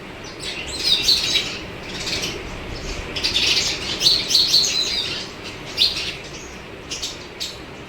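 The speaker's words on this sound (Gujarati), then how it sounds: "ઓલું બુલબુલ છે ને, એને મજા નથી લાગતી." A bulbul chirps and twitters in short bright bursts over a steady hiss of outdoor background noise, the calls fairly near and repeating irregularly with no speech.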